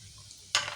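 Cumin seeds hit hot oil for a tadka while cooking kadhi pakora, a sudden bright sizzle bursting in after a quiet moment and continuing loudly to the end.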